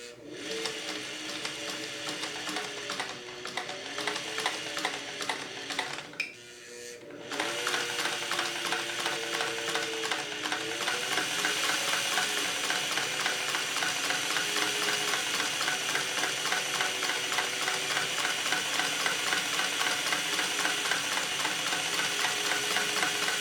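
A sewing machine stitches bias binding with a steady, fast mechanical whir and rhythmic needle clatter, pausing briefly before resuming at a constant pace, close and alone.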